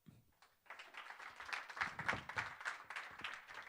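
Applause from a conference audience for a speaker, starting after a short quiet gap and swelling into a steady wash of many hands clapping, moderately distant and fairly soft.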